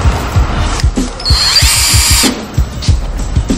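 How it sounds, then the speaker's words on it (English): A power drill bores holes into a Freebord deck in a loud burst of whining, grinding revolutions that lasts about three and a half seconds, with short pulses before and after a sustained central run. "Drill new holes if you want a custom stance"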